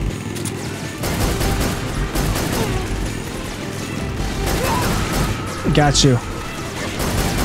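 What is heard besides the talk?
gunfire in video game Metal Gear Solid 3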